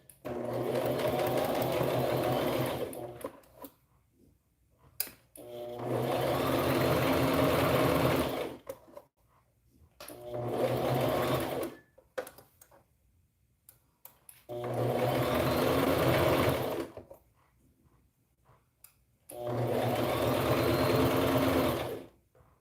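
A sewing machine runs a zigzag stitch on tiny preemie shorts in five bursts of steady whirring, each a few seconds long, separated by short pauses, close and clear.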